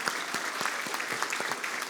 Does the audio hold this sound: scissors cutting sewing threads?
no